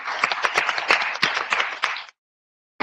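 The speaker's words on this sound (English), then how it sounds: "We give them a big round of applause." Small group clapping at a board of education meeting, a couple of seconds of sharp, uneven claps that stop abruptly, then a brief sound at the very end.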